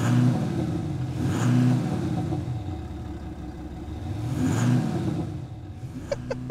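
A Volkswagen Amarok diesel pickup revs twice with its synthetic exhaust sound generator, each rev swelling into a loud, buzzy drone before settling back to idle, with a few clicks at the end.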